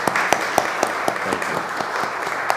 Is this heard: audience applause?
yes